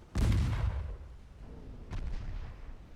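A naval gun salvo booms out in a World War I era naval battle game, one heavy low blast followed by a second, fainter rumbling report as it fades.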